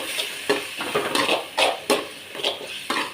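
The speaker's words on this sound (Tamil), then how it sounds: "நல்லா எண்ணெயிலே வதங்கட்டும்." Ginger garlic paste, tomato and potato sautéing in oil in a pan for chana masala, with rhythmic stirring scrapes and bursts of sizzling roughly every half second.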